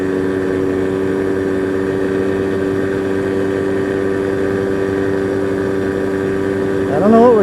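An early Polaris ATV engine drones steadily nearby, a loud, even running note that bogs along at low revs before rising in a brief rev near the end.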